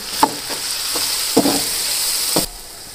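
Ground green chilies frying in a pot for white chicken pulao, a steady soft sizzle with a few spoon taps and stirring scrapes close by.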